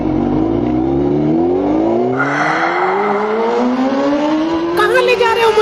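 A cartoon sound effect of a Honda motorbike engine revving up, its rising whine climbing steadily in pitch over several seconds, loud and continuous, with a brief burst of extra noise near the end.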